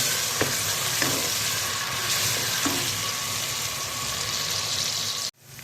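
Onion paste fries in hot cooking oil in a pan, giving a loud, continuous sizzle with a few stirring knocks early on before the sound cuts off abruptly near the end.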